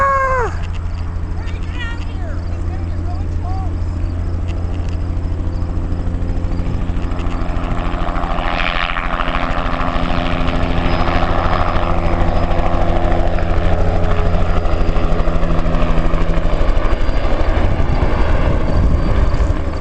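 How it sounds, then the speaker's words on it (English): A helicopter flies overhead, its rotor drone swelling from a distant approach to a loud, close pass before easing off, with excited voices over it and a few sheep bleats early on. "here comes a helicopter"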